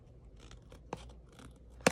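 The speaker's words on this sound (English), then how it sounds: "So I'm just going to lay it up against here and cut it." Scissors snip through a paper cover for a craft journal on a desk, giving a few quiet, close cuts and brief rustles that end in a crisper final snip.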